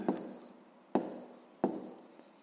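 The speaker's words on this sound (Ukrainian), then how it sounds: "давайте я тут запишу" A pen writes by hand on paper while a math exercise is worked, giving three distinct scratchy strokes at roughly even intervals, each starting sharply and trailing off, close and alone.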